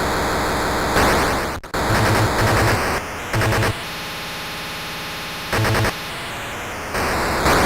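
Blocky, static-like bursts of shooting noise from an Activision game on the Atari 2600 console come in harsh electronic blasts, some long and some short, separated by steady buzzing tones.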